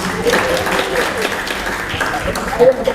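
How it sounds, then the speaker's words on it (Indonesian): Students clapping hands together at a school session, a brisk burst of applause mixed with voices and crowd noise, fairly loud and close. "Tepuk tangan dulu."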